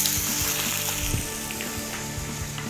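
Snapper fillet frying skin side down in a hot, oiled pan gives a steady, close sizzle with faint crackles throughout.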